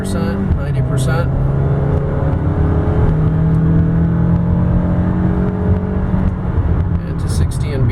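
A 2012 Toyota Camry XLE accelerates hard toward 60 mph from inside the cabin, its engine drone rising steadily in pitch under continuous spoken narration.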